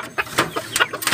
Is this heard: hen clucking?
yes